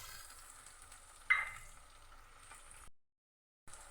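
Onions and ginger-garlic paste fry in a pan with a soft, steady sizzle, quiet and close, broken by a brief stirring clatter and a short drop to silence near the end.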